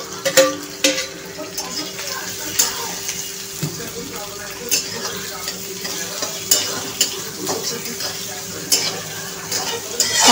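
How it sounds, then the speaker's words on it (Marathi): Sliced onion and garlic frying in a pan for pithale, a continuous sizzle broken by frequent spatula scrapes and clinks against the metal as the mix is stirred. "कांदा छान असा लालसर करून घ्यायचा आहे आपल्याला।"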